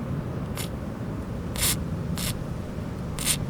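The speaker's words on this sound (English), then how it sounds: "what I'm going to do is spray them with WD-40" WD-40 spray cans hissing onto heavily rusted rear axle bolts of a Jeep Grand Cherokee WJ, several short bursts spaced about a second apart over a low background rumble.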